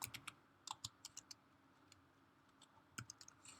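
Typing on a computer keyboard, close but faint in a quiet room: scattered quick keystroke clicks in short bursts separated by pauses.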